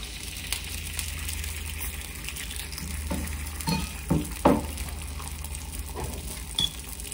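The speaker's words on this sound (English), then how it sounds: "And then I'm just going to lift that out and put that right in the skillet." An oil-coated corn tortilla frying in a skillet gives off a continuous low sizzle, broken by a few brief clatters and scrapes near the middle, with no one speaking.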